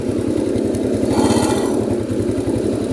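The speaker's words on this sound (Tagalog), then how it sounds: "i-testing natin kung kamusta na itong motorsiklo na ito" A motorcycle engine runs steadily during a test ride after a swing-arm bushing replacement, a close, even putter with a fast regular pulse, briefly swelling in pitch and loudness midway before settling back.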